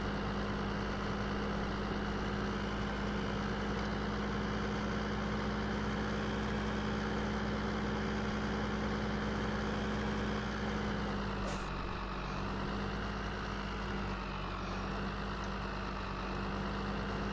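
A heavy truck engine idles steadily in Farming Simulator 15, a continuous low rumble with a faint brief hiss partway through, with no talking over it.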